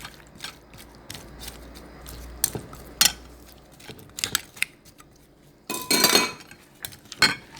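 A spoon clinks and scrapes through fruit chaat in a bowl, with pineapple syrup stirred in, giving scattered sharp taps and a brief louder rattling scrape near the end, close and without speech.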